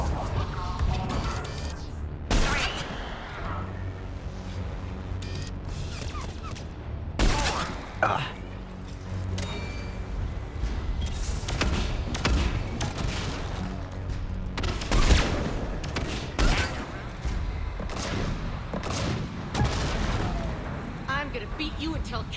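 Gunfire and grenade blasts from the Mass Effect 3 video game come in repeated heavy booms and rattling bursts throughout, with a voice talking over the combat.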